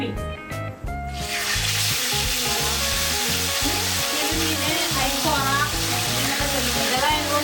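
Fish, including parrotfish, sizzles and fries steadily in a pan for Kerala-style pollichathu, a loud continuous crackle after a brief quiet start, with occasional stirring and no talk.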